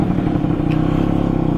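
A Vespa PX MK1 scooter fitted with a VMC Super G 2.0 kit runs smoothly through town, its engine giving a steady, even drone with a low rumbling pulse that holds constant throughout.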